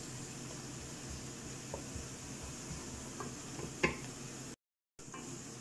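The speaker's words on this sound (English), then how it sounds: "let's give this a little stir, slowly browning off" Onion and garlic slowly browning in a pan on a home cooker, a soft steady sizzle with occasional light clicks and taps of a utensil stirring, one sharper knock near the end before a brief dropout.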